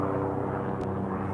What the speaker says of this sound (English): the sky is filled with helicopters and craft